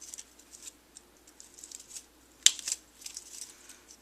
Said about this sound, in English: I'm going to use my Tim Holtz scissors and just clip these off right at the edge there